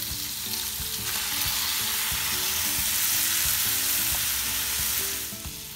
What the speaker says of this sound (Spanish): Entonces ahora voy a echar el camarón